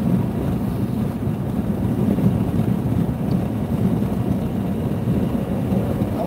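Steady rushing wind roars through an open car window while driving, a loud continuous broadband buffeting with no voices over it.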